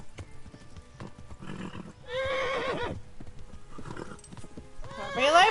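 A horse gallops and neighs in the video game Kingdom Come Deliverance, rapid hoofbeats running throughout while loud whinnies break out twice, close and prominent, with a voice talking over the action.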